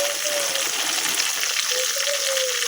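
Onion, ginger and garlic pastes fry in hot oil for a home-style chicken roast, a steady close sizzle with a faint stirring scrape running throughout and no talking.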